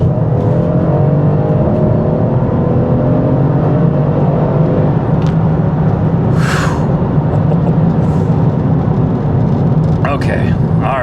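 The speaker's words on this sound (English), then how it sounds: "you just hit the gas and the damn things just go" A 4MATIC all-wheel-drive car accelerates hard, heard from inside. The engine note climbs loud and steady under road roar, and a voice talks over it.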